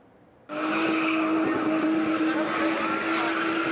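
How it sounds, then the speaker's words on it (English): Cars spin in quick, tight circles at a spinning motorsport event in Johannesburg, a loud sustained engine roar with screeching tires kicking in abruptly after a brief quiet start and holding steady. "a turbocharged sport where drivers spin cars in quick, tight circles"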